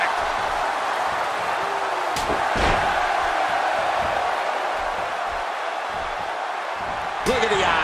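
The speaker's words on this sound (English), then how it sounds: "You can hear this crowd." A loud arena crowd roars continuously under an excited commentator's voice in the WWE 2K17 wrestling video game, with a couple of heavy slamming impacts cutting through.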